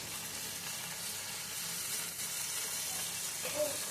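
Pumpkin greens, potato, eggplant and tomato sizzle and hiss steadily together in hot oil in a pan. The frying is close and even, with faint stirring.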